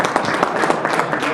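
An audience at a soil and water conservation meeting claps, a dense, even patter of many hands that stays loud and steady through the whole stretch.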